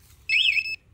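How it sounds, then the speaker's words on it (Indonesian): Aftermarket MP 2 Way alarm module on a Yamaha NMax scooter giving a single short, loud, warbling electronic chirp, close by. "Ini alarm aktif, jadi pada saat motor tersenggol atau terganggu."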